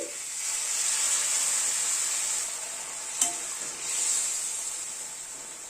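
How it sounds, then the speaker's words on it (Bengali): Hot water poured into a cashew-based chhena kofta curry in a wok hisses and sizzles steadily, a continuous close steamy hiss with a small clink midway and a second surge near the end. "এবার গরম জল অ্যাড করে দিচ্ছি।"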